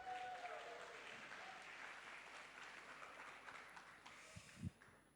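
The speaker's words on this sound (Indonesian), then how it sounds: "Tepuk tangan yang meriah untuk teman-teman semuanya." A crowd applauds at a campus talk, a steady wash of clapping that gradually thins and fades, fairly faint and distant.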